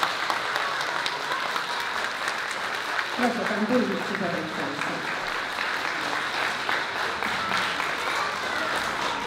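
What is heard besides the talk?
audience applauding children's performance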